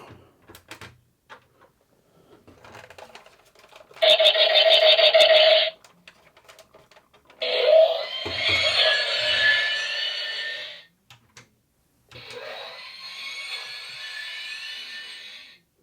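Three separate bursts of electronic sound effects from Micro Galaxy toy spaceships, buzzy and warbling, each lasting a few seconds with quiet clicks between them.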